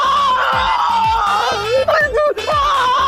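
A man screams in a drawn-out, wavering cry over a busy musical soundtrack, with a brief dip in the middle before the yelling picks up again, loud and close in a children's superhero show scene.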